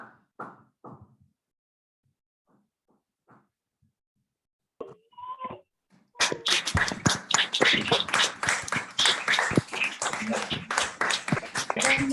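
An audience at a children's gathering at a Jain pathshala breaks into applause for the children's performances. A few faint sounds and brief speech come first, then clapping bursts in loudly at about six seconds and continues dense and close to the end.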